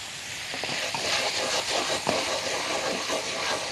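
Garlic sizzles in butter in a pan with a close, continuous hiss and small crackling pops.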